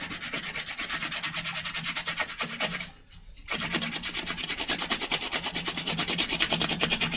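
Very dry paint brush with almost no paint, held horizontally and dragged repeatedly across a surface, giving a steady rhythmic scratchy rubbing close to the ear, with a brief pause midway.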